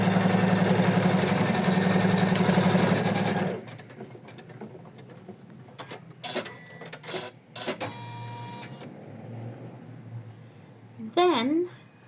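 A sewing machine stitches an ornament in a steady, loud mechanical whir, then stops. Softer clicks, handling noises and brief speech follow.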